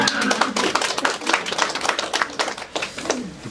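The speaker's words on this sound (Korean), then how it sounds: "이제 끝나고 난 박수 같은 거 이렇게 한 번씩 쳐주시고" An audience claps together after a moving presentation video, dense overlapping handclaps filling the room at steady loudness throughout.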